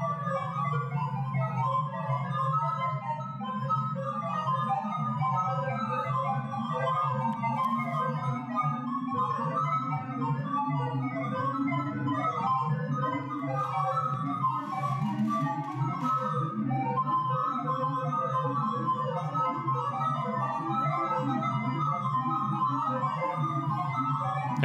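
Electronic sonification of a cuckoo hashing sort with three alternative positions per item: a continuous, dense warble of rapid synthetic bleeps over a steady low buzzing tone, even and unbroken throughout, with no voices.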